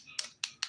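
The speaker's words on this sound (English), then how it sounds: "take your file and kind of tap your nails. And if you hear that hollow clacking sound" A nail file taps on set dip-powder nails, giving three sharp, hollow clacks in quick succession, close and faint.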